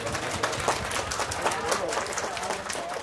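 Guests applaud at a Vietnamese baby's first-birthday celebration. The clapping is broad and steady, with voices mixed in.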